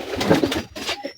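Chinese Teddy pigeons coo close by, with a few soft, throaty rolling coos in quick succession and brief pauses between them, no voices.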